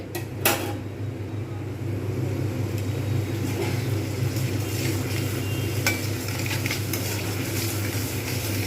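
Banana flower curry sizzles in a brass kadai over medium-high heat as it is stirred, giving a steady close frying hiss with occasional scrapes and clinks of the spoon against the pan.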